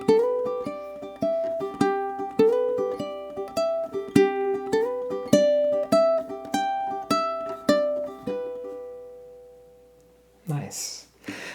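A ukulele plucks a bright repeating melody at a steady pace, walking down at the end and letting the last note ring, followed by a brief voice.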